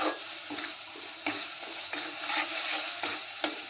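Spiced onion-tomato masala for shev bhaji being stirred in a pan, with a steady soft sizzle broken by repeated scraping strokes of a spoon against the metal, close and fairly quiet.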